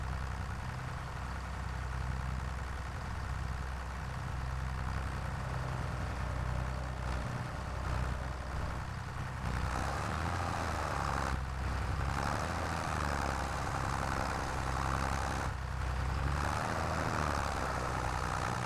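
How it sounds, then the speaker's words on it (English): A tractor engine in Farming Simulator 25 drones steadily under heavy load, a loud continuous low rumble with slight shifts in pitch and no talk over it. "Now let's hope this tractor has enough horsepower for this."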